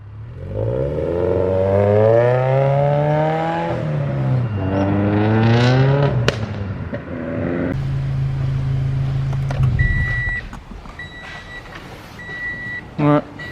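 A Subaru BRZ or Toyota 86 sports car drives up the road, its engine note rising and falling steadily and fairly loud, fading as it pulls away, with a brief voice and faint beeping near the end.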